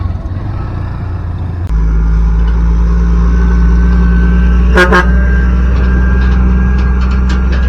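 A heavy trailer truck's engine rumbles close by at a toll road construction site, jumping louder as it nears, with a brief sharp honk-like burst partway through.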